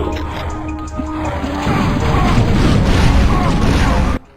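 Explosions in Turok: Dinosaur Hunter burst in a loud, rumbling crash that swells into a heavy, sustained boom and cuts off abruptly at the end.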